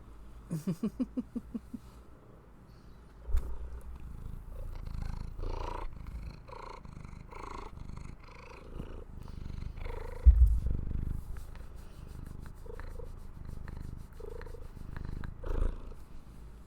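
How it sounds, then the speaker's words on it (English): A cat purrs close by in a low, steady rumble, with soft rhythmic pulses and a few faint bumps. "There's the kitty purpers for you guys."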